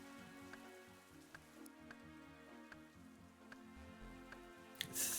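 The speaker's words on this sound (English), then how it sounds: "Have you guys seen this dynamic weather, 3D weather plugin before? Makes it like rainy and stuff?" Rain from a dynamic 3D weather plugin in a video game, a steady soft patter on surfaces with scattered brighter drop ticks, faint and continuous throughout.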